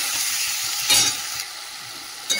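Masala of potato, onion, tomato and ground spices frying in oil, a continuous close hiss with a couple of brief scraping stirs.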